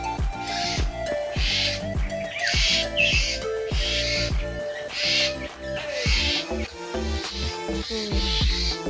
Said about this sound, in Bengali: এই দেখে পাখিগুলো কিচির মিচির